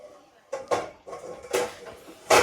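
Dishes being washed on a trip in Lithuania: several sharp clinks and clatters of crockery sound close by at irregular intervals, with quieter rustling in between.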